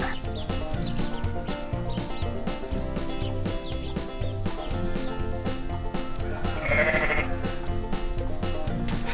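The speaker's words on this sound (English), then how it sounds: "Look at the sheep." Sheep bleat repeatedly on a farm, with rhythmic calls over a steady background that includes other livestock sounds, fairly close and continuous.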